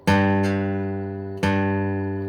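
Two plucked guitar notes ring out clearly, the second struck about a second after the first, each sustaining and slowly fading with no voices.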